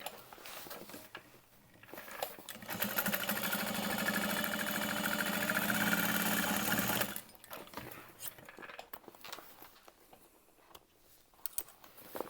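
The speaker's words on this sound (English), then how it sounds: "I'm going to sew this shut." A sewing machine stitches a zipper pocket shut. One steady whirring run of a few seconds sits between quieter handling noises before and after.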